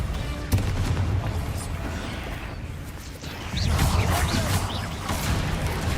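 Confringo blasting spells go off in Hogwarts Legacy, producing loud, close booming bursts with crackling impacts over a dense, continuous game soundscape.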